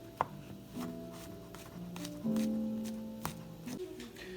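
A knife chops champignon mushrooms on a board in a home kitchen, with a few crisp cuts at irregular intervals amid soft handling noises, close and fairly quiet.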